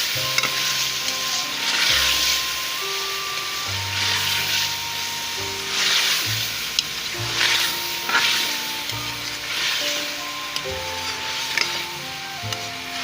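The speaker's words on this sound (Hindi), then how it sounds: "इसकी भुनाई करती हूँ।" Chicken and spinach for palak gosht roasting in a pan, a continuous loud sizzle with rhythmic scraping stirs every couple of seconds and low clinks and tones underneath, no talking.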